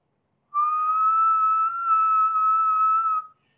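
A person whistles one sustained steady note, clear and close, held alone for about three seconds against silence before stopping cleanly.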